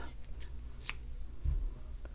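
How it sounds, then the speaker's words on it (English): Scissors snipping crochet yarn after a slip stitch on a baby dress, a brief quiet cut or two amid faint handling rustle, no talk. "Cut my yarn and then pass my yarn through that last loop."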